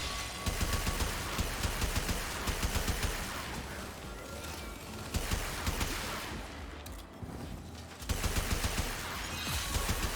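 Rapid gunfire in the video game Warframe, dense overlapping bursts of loud shots firing almost continuously with only a brief lull near the end.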